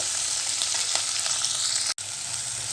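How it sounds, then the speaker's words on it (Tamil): Steady hissing sizzle of onions frying in a pan, close and continuous, with a brief dropout near the end. "வெங்காயம் நல்லா வந்து வதங்கி வரணும் நல்லா வதக்கிப்போம்"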